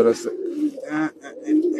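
A pair of pigeons coos up close in a home loft, steady low rolling calls running continuously while someone talks over them.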